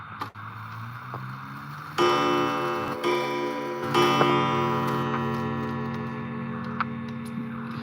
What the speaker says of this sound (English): I'll show you one of the 2 new clocks that I got pretty recently.